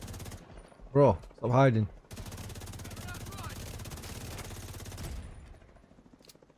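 Rapid automatic gunfire from The Division 2 firing bleed bullets, a dense continuous burst lasting several seconds after two short spoken phrases, then cutting off.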